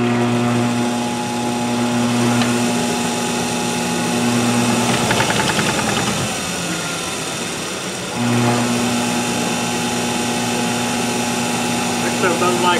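A wood lathe spins a white oak natural-edge bowl blank, a steady droning motor hum that briefly changes pitch in the middle as speed shifts, then settles back into an even whirr, with someone talking over it.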